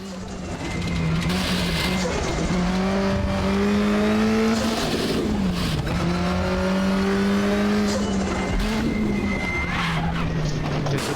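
Race car engine in the Raceroom racing game, loud and sustained, rising and falling through revs and gear shifts over about eleven seconds, with brief tire squeal and skidding.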